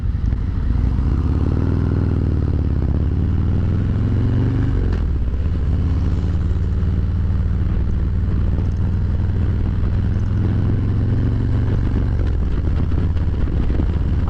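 A 2023 Harley-Davidson Road King motorcycle is ridden, its engine giving a steady, loud low rumble that stays continuous throughout, with a brief clunk partway through and no voices.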